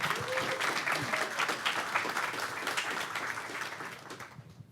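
Sustained audience applause at a stage presentation, dense and steady clapping filling the room before tapering off toward the end.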